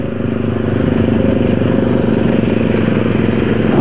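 Motorcycles riding together in a group on a Sunday morning ride, their engines a loud, continuous mid-range drone with a steady pulsing texture and some clatter, close and without pause.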